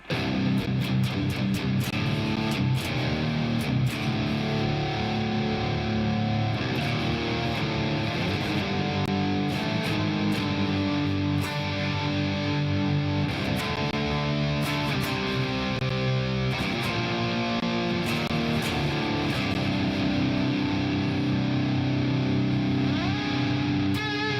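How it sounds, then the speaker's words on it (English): Heavily distorted electric guitar through a Mesa amp plays sustained chords and riffs, thick and saturated throughout, with heavy reverb and chorus and no voices. "the real heavy distortion. I believe I'm using a Mesa amp on this"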